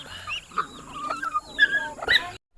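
A dog yips and whimpers in short bursts at a home in the countryside, the calls rising and falling close by with no one talking over them.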